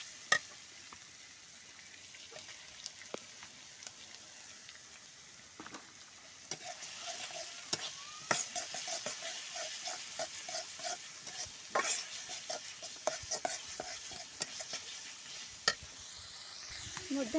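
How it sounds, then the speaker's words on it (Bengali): Chili paste with salt, turmeric and spices fries in a pan for a fish-head curry, a low sizzle that grows busier halfway through, punctuated by scattered scraping stirs of a spatula. "কিছুক্ষণের জন্য কষাবো"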